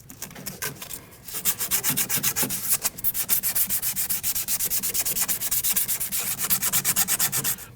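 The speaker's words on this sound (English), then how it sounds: "You can use a piece of sandpaper. You want to get this really clean and smooth" Sandpaper rubbed by hand over the bottom of a car strut while replacing the front steering knuckle on a 2013-2019 Ford Escape, a close, loud, rhythmic scratching with quick back-and-forth strokes repeating steadily, no talk.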